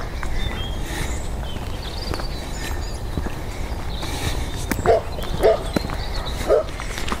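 Excited Labrador-type dogs bark a few times at moderate distance in the woods, three or four sharp barks over a rustling outdoor background.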